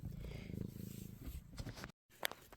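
A kitten purrs close to the recording device with a low, steady rumbling pulse, fairly faint, broken by a short gap and a small rustle near the end.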